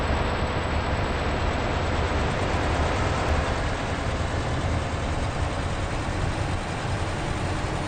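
A truck engine drones steadily in a trucking video game, a dense, unbroken rumble heard alone at even loudness throughout.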